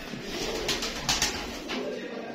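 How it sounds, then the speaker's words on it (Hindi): Breeder pigeons coo softly at close range in short, repeated low calls, joined by a few brief wing flutters or scuffles against a quiet background. "ये उस्ताद तनवीर कुरैशी साहब के मेन ब्रीडर कबूतर हैं"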